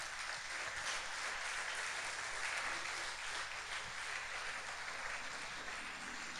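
Church congregation applauding during a service, a distant, faint wash of steady clapping with a few low thumps underneath.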